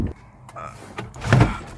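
A truck door opening from inside a tight cab, with a mechanical latch and a swelling rush of movement near the end, fairly close and unaccompanied by speech.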